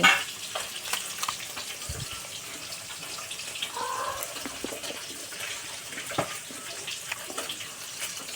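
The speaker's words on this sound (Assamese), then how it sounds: "দেখাই আছোঁ আপোনালোকক কেনেকৈ ভাজি আছে মাছটো" A steady crackling sizzle of fish frying in hot oil in a home kitchen runs throughout, with scattered pops and faint kitchen clatter.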